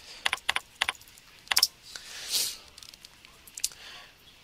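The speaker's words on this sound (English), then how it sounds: "and then type in your last name." A last name is typed on a computer keyboard in a few quick bursts of close, crisp key clicks with short pauses between them, along with one softer rustling swell partway through.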